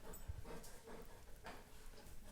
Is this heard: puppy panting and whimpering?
yes